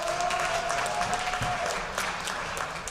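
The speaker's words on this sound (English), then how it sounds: "one more round of applause for the boys varsity soccer team and Coach Barrera" Crowd applause at a fall sports athletic banquet honoring the boys varsity soccer team, a steady, full clapping throughout with no break.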